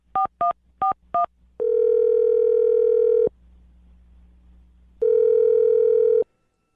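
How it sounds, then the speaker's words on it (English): A telephone call is placed: four short touch-tone dialing beeps come first, then two longer steady ringback tones separated by a quiet gap, clean and close. "I'm going to dial her phone number right now and see if we can get her on the phone"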